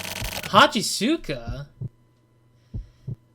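Heartbeat effect from The Silver Case video game: after a spoken word, two soft low thumps follow a pause, with earlier dull beats half buried under the voice, all over a quiet steady hum.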